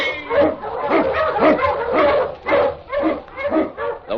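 Husky sled dog on a snowy Yukon trail, barking in a quick, steady series of loud yelps and woofs, about two each second, close to the listener.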